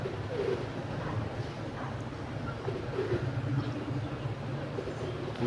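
Pigeons coo steadily close by in a rural loft in Bijnor, Uttar Pradesh, India, a low continuous murmur of soft repeated calls with no talk over it.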